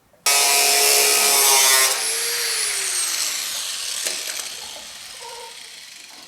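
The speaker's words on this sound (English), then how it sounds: "I can take the cutoff wheel and slice that right there" A cutoff wheel slices into the sheet metal of a GTO car quarter panel: a loud, bright grinding shriek for under two seconds, then the wheel spins down in a fading whine with a brief clunk, close by.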